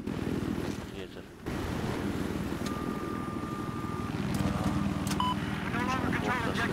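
Helicopter in the video game Battlefield 4, its rotor drone churning continuously beneath bursts of gunfire and game effects, with a voice talking over the action.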